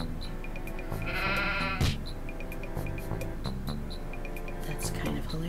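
Sheep bleat in a cartoonish video game: short, nasal, wavering cries over looping background music, with repeated bright little chime-like effects.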